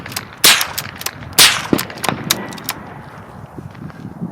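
.22 rifle shots fired through a Hot Link suppressor, probably on an AR: two sharp suppressed cracks a second apart, then several quieter ringing impacts and clicks fading out, loud and close with no talking.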